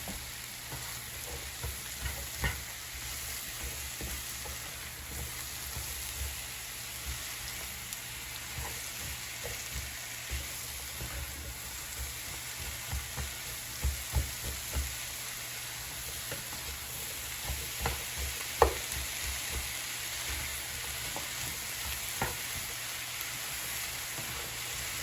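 Mushrooms, zucchini and onion frying in butter and garlic for hibachi vegetables, a steady close sizzle running throughout with soft scrapes and clicks of stirring scattered on top.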